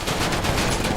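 Sustained burst of gunfire in the GTA 5 Online video game, a dense, loud rattle of rapid shots filling the whole second.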